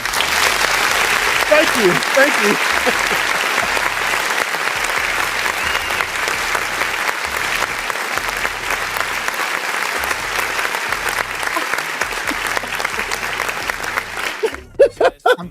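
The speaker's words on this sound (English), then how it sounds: "Where's my little clapping thing?" A dense, crowd-style applause sound effect plays at a steady level for about fourteen seconds, then cuts off abruptly, with a brief voice at the end.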